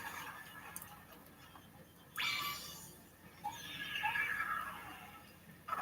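Horse whinnies inside the video game Breath of the Wild: a bright neigh bursts in near the middle and a longer descending whinny follows, both fairly loud over a steady hum of game ambience.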